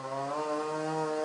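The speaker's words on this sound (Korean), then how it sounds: "아파트 3층 높이의 가로수를 치우느라 전기톱까지 등장했습니다" An electric chainsaw cuts up a roadside street tree, over sixty years old and about three storeys tall, snapped by strong wind in a residential area; a loud, steady motor whine holds throughout with no voices.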